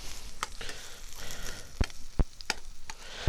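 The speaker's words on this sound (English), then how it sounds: "I'm just going to brown these onions off." Onions browning in a frying pan give a soft, steady sizzle, broken by a few sharp knocks and scrapes of a spoon against the pan.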